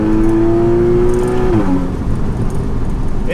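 A naturally aspirated 2.7-litre Porsche Boxster engine revs close and loud in a steady high drone, then its pitch drops suddenly as the gear shifts and the engine settles into a rougher, lower hum.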